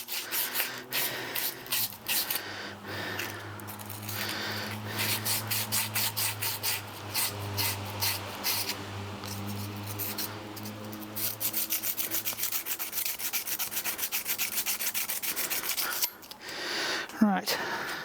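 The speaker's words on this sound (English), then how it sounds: "Let's take some burrs off this as well." A metal file rasps burrs off a seized bicycle Q-loc skewer part in repeated back-and-forth strokes, close and fairly loud, with a low steady hum underneath and someone speaking at times.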